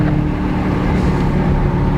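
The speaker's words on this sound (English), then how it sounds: "Let's give some downshifts" A 2020 BMW X6M Competition engine droning loud and steady as it downshifts out of a corner, a continuous low rumble with no voices over it.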